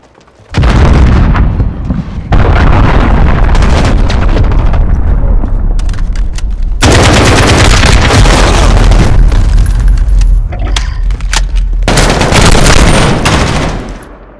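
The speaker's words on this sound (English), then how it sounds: "Allied cruise missile away." A cruise missile strike in the video game Call of Duty: Modern Warfare hits with loud booming explosions, followed by sustained roaring blasts and rumbling artillery-like impacts.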